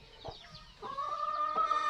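Rhode Island Red chickens cluck close by in a few short bursts of throaty, rising calls, with no talk over them.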